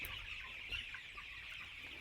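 Tiger chickens cluck steadily on a poultry farm housing about a thousand birds, a busy flock chattering without pause at moderate distance, with a brief louder squawk near the middle.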